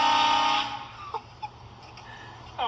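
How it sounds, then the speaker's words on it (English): A train horn fitted to a car blasts a loud, sustained chord for about half a second, then cuts off, leaving quieter street background with a couple of brief knocks. "Did you just have a train horn?"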